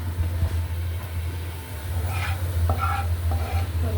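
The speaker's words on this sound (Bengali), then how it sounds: "বেশ আমার পেস্টটা হয়ে গেছে, পেঁয়াজ আর রসুন লাল লাল হয়ে গেছে।" Onion and garlic paste fries in a pan, a continuous close sizzle with occasional utensil scrapes, over a steady low hum in the background; nobody speaks.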